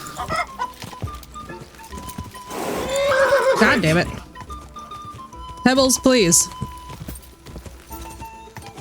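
A horse whinnies in two loud bursts in a video game, Kingdom Come: Deliverance II, with hoof clops underneath and a voice talking over the sounds.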